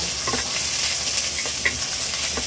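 Chopped onions sautéing in a pan, a steady close sizzle with faint stirring scrapes and no voices.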